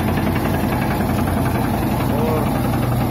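A small single-clutch tractor hauls a Happy Seeder during a field trial, its engine thrumming steadily and close with a constant low rumble and vibration, no pauses, throughout.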